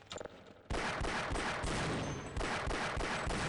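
Rapid, loud tower cannon fire in Half-Life, a dense rattling barrage of blasts with no pauses.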